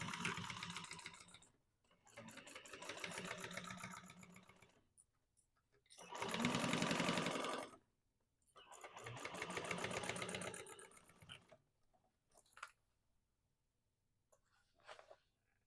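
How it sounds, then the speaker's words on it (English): A sewing machine stitches a quarter-inch seam in bursts: several runs of rapid, even mechanical stitching, each a few seconds long, broken by short pauses and a few brief clicks, heard close and alone without talk. "We're actually sewing it."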